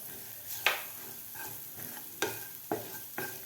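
Ground masala paste with a pinch of turmeric is stirred and sautéed in a pan, with a few distinct scraping strokes of the spoon over a faint, low sizzle.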